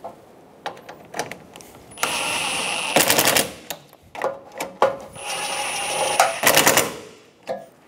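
Bolts on a 2012-2016 Subaru Impreza headlight assembly are tightened with a ratchet, giving close, loud bursts of rapid clicking separated by short pauses and scattered metallic taps.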